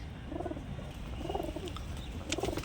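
Pigeons coo nearby, three rounded, rolling coos spaced roughly a second apart over a steady background hum, with faint chirps above.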